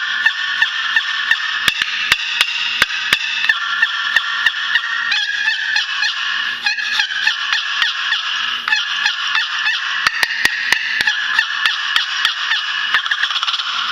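A two-sided box turkey call of Eastern red cedar with a purpleheart paddle, scraped rapidly to imitate a gobble: loud, close, raspy honking yelps in quick trills with sharp clicks, repeated steadily.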